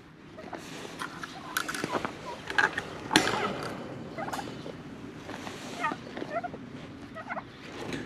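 Turkeys gobble and chatter nearby in a steady, busy stream of calls as they walk along their run on a homestead in Illinois in freezing winter weather, with occasional creaks and knocks mixed in.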